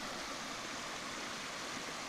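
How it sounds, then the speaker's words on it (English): Small woodland streams meet along Penitentiary Branch in the Cohutta Wilderness, making a constant broadband rush of flowing water that stays even and close throughout, with no voices. "intersects this little couple of streams coming together here."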